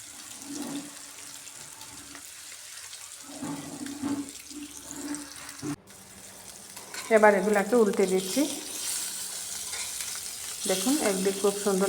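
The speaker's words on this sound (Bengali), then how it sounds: "মাছগুলো এক এক করে এই তেলের মধ্যে ভেজে নিচ্ছি" Spiced fish pieces fry one by one in hot oil for a kalia curry, giving a crackling sizzle that swells and fades while a person speaks over it.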